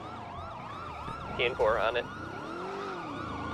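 Police sirens wail in a tactical video game, with a steady rising and falling siren sweep running throughout and a brief burst of radio chatter and speech in the middle.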